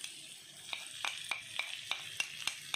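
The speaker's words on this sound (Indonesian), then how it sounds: "goreng sebentar" Ground coriander and pepper fry in a hot pan with a soft, steady sizzle while a utensil scrapes and stirs in regular strokes, close and fairly quiet, with no talking.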